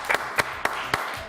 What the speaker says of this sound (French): On applaudit très très fort ma poule Sandrine.